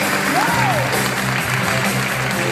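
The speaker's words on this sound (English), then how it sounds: "Let's give them a big round of applause." Applause from the crowd at a corporate appreciation night, moderately loud and continuous, with a brief whistle-like tone and some background voices mixed in.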